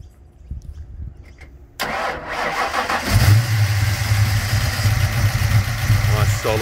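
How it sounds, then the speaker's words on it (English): Engine of a 1971 Ford XY GT Falcon replica with a Holley carburettor, yellow-top coil and Pacemaker extractors: a quiet lead-in, then the starter cranks and the motor catches into a loud, rumbling idle close by. "And we'll just start that up."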